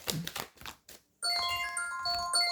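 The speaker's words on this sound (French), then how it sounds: "j'ai oublié d'enlever la sonnette" A phone notification chime of bright, sustained bell-like tones sounds close and clear after a few seconds of rustling and clicking.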